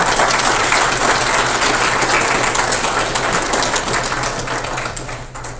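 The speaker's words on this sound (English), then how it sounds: "Please give a round of applause for all of our veterans and our service members." Sustained audience applause at a Spring Lake town Board of Aldermen meeting, honoring veterans and service members; a dense, steady wash of many hands clapping that gradually thins and fades toward the end.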